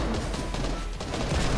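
Gunfire from the hand cannon in the Fortnite video game, a dense run of loud, continuous shots with no clear gaps between them and no talking.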